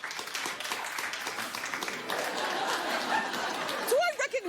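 Studio audience at a daytime talk show clapping in a dense, continuous burst with scattered chuckles and chatter, then a voice cutting in near the end.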